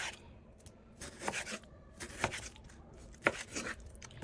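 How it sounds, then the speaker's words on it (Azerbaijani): Chicken breast is cut with a knife on a board, giving a few soft, separate slicing strokes close by, each ending in a light tap. "Mən burada toyuğun döşətindən istifadə edirəm. Birinci bunları belə formada doğrayırıq."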